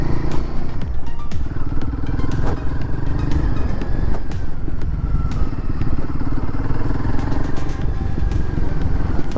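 A Royal Enfield Guerrilla 450 motorcycle rides along dirt roads, its engine a loud, constant, close drone with gravel crunch and rattling clatter throughout.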